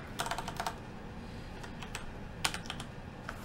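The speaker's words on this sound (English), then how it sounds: "Sorry for my typing mistakes." Fast typing on a computer keyboard, quick irregular clusters of light key clicks close to the microphone over a steady background hiss, with no talking.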